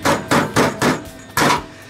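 A body hammer strikes the decklid spring tab of a VW Beetle, five sharp metallic blows close up, four in quick even rhythm and then one more after a short pause, with no talk.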